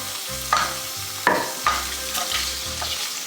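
Vegetables sizzle steadily in oil in a frying pan, sticking to the bottom, with close scraping and stirring knocks at intervals over a constant hiss.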